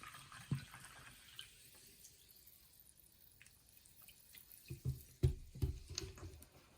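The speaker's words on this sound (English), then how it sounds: "Let's pour some water in." Poland Spring natural sparkling carbonated spring water from Maine splashes into a container in a few uneven glugs and drips, quiet at first, then louder bursts near the end, with no voices.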